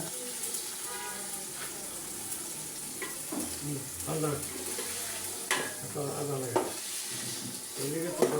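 Ginger frying in a sizzling pan as it is stirred, a continuous sizzle and hiss with intermittent scraping strokes of a spatula, close by, with faint voices at moments.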